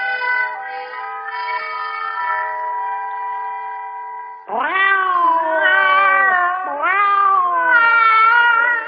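Several cats meow and caterwaul in long, wavering, tonal cries, one steady drawn-out call followed by rising and falling yowls, loud and close with no talk.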